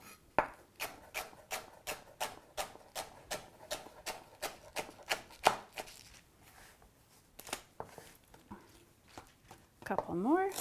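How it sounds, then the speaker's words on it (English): A knife chops vegetable stems and leaves on a cutting board during fried rice prep. The cuts come as a fast, even run of close, crisp knocks, then slow to scattered chops, and a voice is heard near the end. "So we'll just keep using our claw to guide our knife on the sizes we want."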